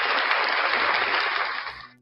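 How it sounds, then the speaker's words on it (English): Broadband applause-like wash from a live breakfast show audience or studio for NCR News Network, steady and fairly loud for about two seconds before cutting off abruptly. "Round of applause for NCR News Network."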